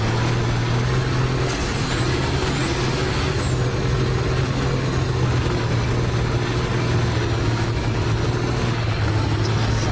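Vehicle engine in the video game Battlefield 2142, a loud continuous drone with a steady low hum under broadband noise and a brief higher whine partway through.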